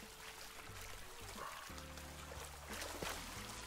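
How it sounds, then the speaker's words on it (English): Underwater bubbles while diving in the Animal Crossing: New Horizons video game, a soft burbling, trickling wash of bubbles under a low game tone, faint and continuous. "Bubbles!"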